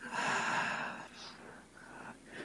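A person takes a deep, audible breath in through the nose and mouth, a loud breathy rush lasting about a second, followed by softer, quieter breathing as part of a guided meditation.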